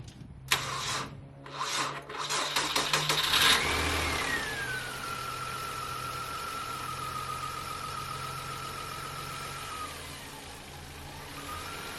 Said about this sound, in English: now I know why you have to bring up the idle, because it almost kills it